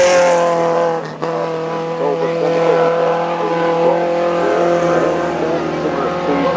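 A big vintage Vauxhall racing car roars at the Goodwood Revival's Brooklands Trophy race, its loud, steady engine drone holding a strong tone after a brief dip, close and dominant throughout.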